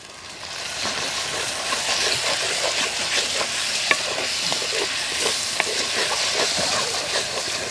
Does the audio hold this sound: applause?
no